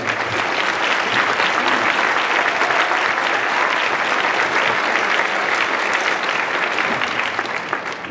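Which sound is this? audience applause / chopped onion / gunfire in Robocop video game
audience applause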